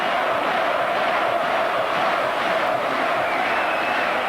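A large boxing crowd roars continuously at the Palais de Sport in Marseille, a loud, dense wall of cheering and shouting from a packed arena that holds steady for several seconds.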